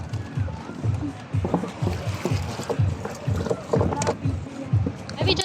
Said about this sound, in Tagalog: Sagwan, di motor.